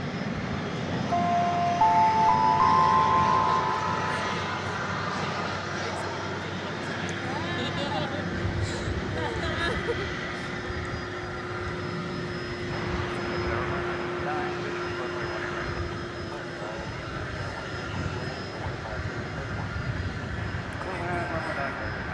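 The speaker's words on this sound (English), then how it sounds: "American Flight 364, Airbus A319 is just about to get here from Austin, Texas." An American Airlines Airbus A319 arriving from Austin at DFW Airport gives off a steady, distant jet-engine drone that holds throughout, with a person talking over it.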